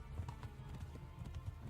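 Horse hooves clip-clop at a steady gallop in Kingdom Come Deliverance, a rapid run of low, thudding beats with a faint wash of game ambience behind them.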